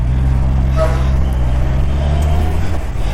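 Dense road traffic rumbles close by, a constant loud drone of engines with a faint brake hiss, no voices.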